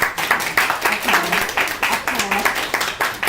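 A classroom group applauding during a leadership lecture, with brisk, evenly spaced claps in a steady rhythm that sound close and moderately loud, with some voices underneath.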